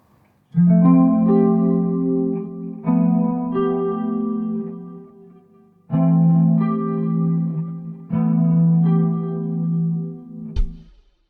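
An electric guitar plays a slow progression of four sustained, effects-drenched chords, each struck and left ringing with a shimmering, chorused tone.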